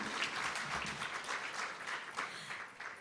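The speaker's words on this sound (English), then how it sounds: "Another round of applause, ladies and gentlemen, for our MEC." A business breakfast audience claps for a dignitary in a hall, producing a dense, continuous wash of applause at moderate volume that holds steady for a few seconds, with no voices standing out.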